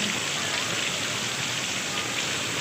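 Heavy rain pours steadily and densely, a constant close hiss of water drumming on surfaces with no pauses.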